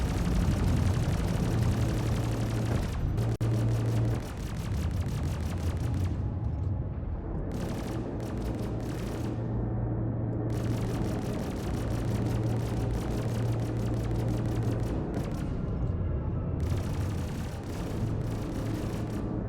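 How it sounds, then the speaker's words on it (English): Ship turret guns firing in a space combat game, long rapid bursts of automatic fire broken by short pauses over a constant engine whir, loud and close. "It's shooting me a lot with the turret gunners."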